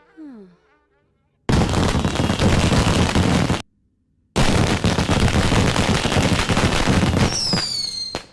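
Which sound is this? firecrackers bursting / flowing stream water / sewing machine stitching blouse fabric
firecrackers bursting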